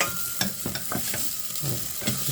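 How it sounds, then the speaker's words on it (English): A spoon stirs chunky vegetable soup with rosemary in a pot over heat, giving repeated scraping, sloshing strokes at a steady rhythm, close and clear, with a faint sizzle beneath. "Let's give it a nice mix."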